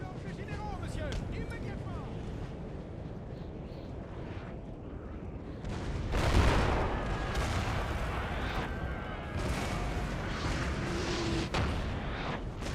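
Napoleon Total War battle: cannon fire booms amid a dense, rumbling din of musketry and battle noise, one heavy blast standing out near the middle, while someone talks over it.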